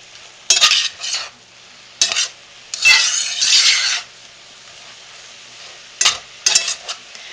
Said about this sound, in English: And now I'm going to stir it all up